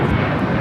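Air France Boeing 777-300ER airliner inbound to LAX from Paris, a steady broadband jet engine roar heard briefly and fairly loud, with no voices.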